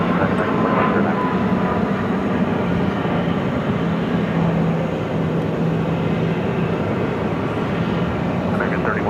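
Boeing 737 airliner taking off at Phoenix airport, a continuous loud broadband engine roar holding steady throughout.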